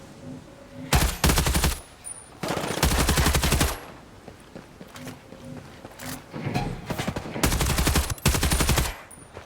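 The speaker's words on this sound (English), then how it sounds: "We're going to fire a clip in each gun, and then we're going to call it a day." Automatic gunfire in the Ghost Recon Breakpoint game, Operation Motherland: several loud, sustained full-auto bursts fired one after another with short pauses between them. No talking.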